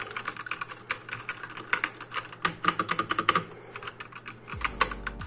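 Fingers type on a Machenike K500 B94 mechanical keyboard, producing fast, crisp, uneven clacks close to the mic with irregular bursts and short pauses, over a low steady hum.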